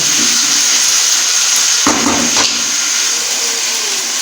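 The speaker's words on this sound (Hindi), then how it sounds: "इतना पानी ऐड करेंगे तकरीबन ½ कप, जिसमें हमारी गोभी अच्छी तरह से टेंडर हो जाए।" Water splashes steadily into a hot pan of frying cauliflower masala, a loud continuous wash with a brief sharper gush midway and no talking.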